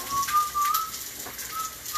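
Someone whistles a thin, faint, wavering tune in a kitchen while cooking, the short notes broken up over a soft hissing background.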